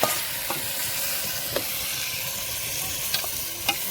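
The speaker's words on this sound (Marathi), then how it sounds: "आपण चिकन घालूया मॅग्नेट केलं चिकन आहे" Marinated chicken sizzles and crackles steadily in a hot pan, with a few sharp clinks of a utensil stirring, close and fairly loud.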